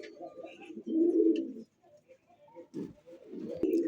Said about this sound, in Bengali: সিলভার হাইফ্লার কবুতর।